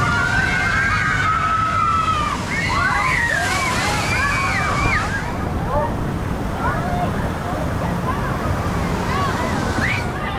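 Water crashes and sloshes over riders on the Stormforce 10 water ride at Drayton Manor, loud and close, while excited voices and shrieks ring out over the splashing.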